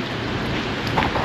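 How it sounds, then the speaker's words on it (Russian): Steady rain falling in a seaside park in Lazarevskoye, Sochi, a dense even patter of drops on surfaces that holds at a constant moderate level throughout, with no voices. "Слушайте, дождик усиливается."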